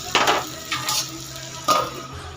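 Metal lid clattering onto a pan of eggplant cooking over low heat, a few clinks and scrapes over a faint steady sizzle, close by and fairly quiet.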